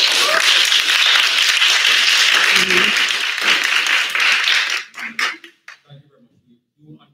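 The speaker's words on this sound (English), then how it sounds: "can I ask you just to give both teams a round of applause?" A crowd at a public sector debate match applauds both teams with loud, dense clapping that fills the room for several seconds, then thins into scattered claps and stops abruptly, leaving a few faint voices.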